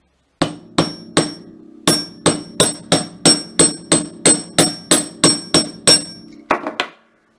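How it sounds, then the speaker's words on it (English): Sharp metallic hammer strikes on jewelry wire, work-hardening it, ring out one after another at a steady, quick rhythm, loud and close, with a brief pause early on and no talking. "I just gave a little hammer, hardened those up a little bit."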